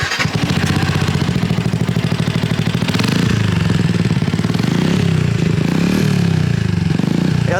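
Loud, close Suzuki motorcycle fitted with an Akrapovic exhaust catches and idles in a steady rapid throbbing rumble, rising into harsher revving swells toward the end, with the engine dominating throughout.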